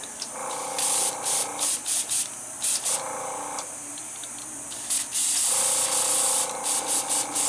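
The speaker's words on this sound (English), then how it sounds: "it'll backfeed and it'll blow the air back through" Sharp bursts of hissing air from an airbrush backfeeding air sputter on and off in short pulses, loud and close, with brief quiet gaps between them.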